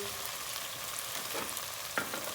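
Peppers go into a pan with tomato paste and sizzle in a soft, steady hiss, with a light scrape and clink of a stirring utensil near the end.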